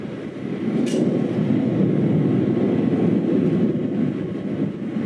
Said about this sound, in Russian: Самолет. Да капец, так громко летит.